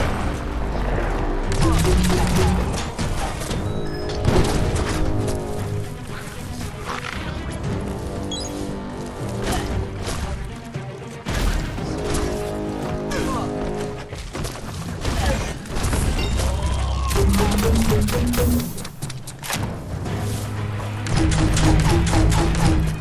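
Bullets fly thick and fast in a Biomutant firefight against the Jagni Tribe, with dense bursts of gunfire, crashes and heavy impacts piling up over a busy game soundtrack that runs loud and unbroken throughout.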